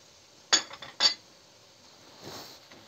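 Peppers sautéed with onion, minced meat and garlic in a pan, heard as two sharp metallic clinks of a utensil against the pan followed by a softer scraping stir, close and with no talking.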